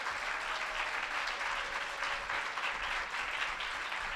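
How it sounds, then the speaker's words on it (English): Audience applause for a panel at the White House Forum on Women and the Economy: dense, steady clapping from a large crowd, loud and sustained throughout with no speech over it. "a round of applause for them? Weren't they great?"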